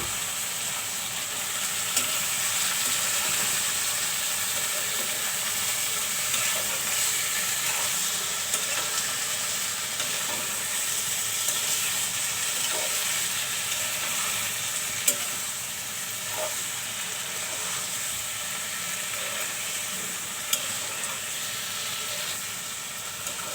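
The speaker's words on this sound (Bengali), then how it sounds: "এখন আমি বড় কচুর ডাঁটাগুলো দিয়ে দেব।" Boiled giant taro stems fry in a pan with fish scraps, giving a steady, dense sizzle and hiss that runs throughout, with occasional light stirring clicks.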